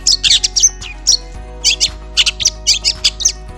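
Loud, sharp long-tailed shrike calls in quick bursts of harsh chattering notes, repeated irregularly with short pauses, close by and alone.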